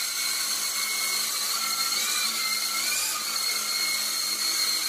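A Syma S37 toy RC helicopter lifts off and flies, its small motor and rotor making a steady, high whine with slight pitch wobbles, close by and continuous with no talking.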